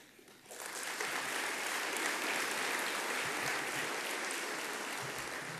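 Audience applause at a city's State of the City address, a sustained room-filling clapping that starts abruptly and holds steady at moderate distance for several seconds.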